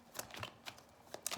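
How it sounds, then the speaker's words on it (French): Oracle cards are shuffled and drawn from a deck in a series of soft, quiet riffling and flicking sounds, several short bursts close by with no talking. "On va tirer écoutez, une petite carte de ce jeu."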